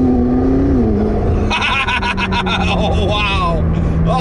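A supercar accelerates hard on a freeway in traffic, its engine rising from a low drone into a loud, high-pitched revving howl that climbs through the gears, close by, with a voice speaking during the run.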